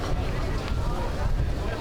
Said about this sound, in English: Right, we now got a bit of wind here, thankfully.